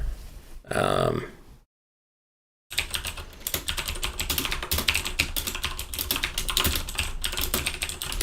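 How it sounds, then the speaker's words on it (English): Fast, clattering keystrokes on a loud keyboard, close to the microphone, following a brief grunt-like vocal sound and a moment of silence. "Sorry for the loud keyboard."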